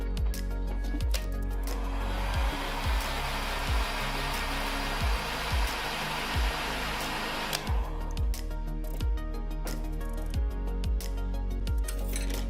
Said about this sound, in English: We're going to blow heat on the vibration motor.